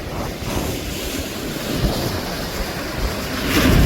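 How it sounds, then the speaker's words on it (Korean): Strong wind buffets the microphone beside Songji Lake in Goseong, Gangwon, while choppy waves wash and slosh against the shore in a steady roar that swells louder toward the end. "여기 바람이 많이 부는데 출렁거리지 않을지 모르겠습니다"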